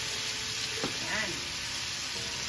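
Papaya and moringa frying in a pan while being stirred, a steady dense sizzle with a brief scrape and a faint voice in the background.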